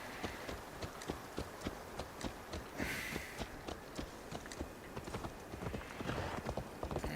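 Horse hooves clip-clop in a steady, quick rhythm as a rider heads into town in Assassin's Creed Valhalla, a continuous trotting patter under a low ambient wash.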